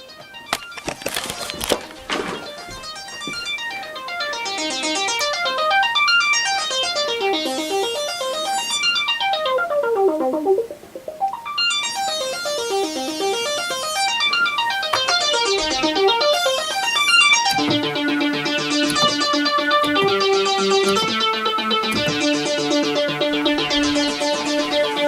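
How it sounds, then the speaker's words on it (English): A Roland Juno synth plays a synth drum rhythm driven by arpeggiator sync, with fast repeating tonal pulses sweeping up and down in pitch, then settling into a steady patterned rhythm, loud and continuous with no talking. "now I've got the Juno set up with a kind of a synth drum sound, and it's triggering a kind of a rhythm"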